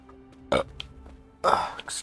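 A loud burp erupts partway through, followed by a second longer, rougher burp, with faint voices and game sounds in the background during a midnight gaming session.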